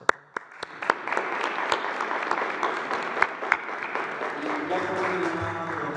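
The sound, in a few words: applause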